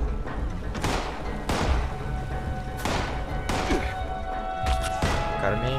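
Enemy gunfire in the video game Fallout 76 cracks out as several sharp, loud bursts at irregular intervals over a busy, noisy background.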